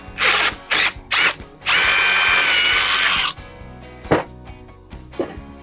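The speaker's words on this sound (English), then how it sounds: "and just continue to drill through it." A power drill bores through clamped wood in several short bursts, then one long sustained run of about two seconds, loud and close, followed by a few faint clicks and knocks.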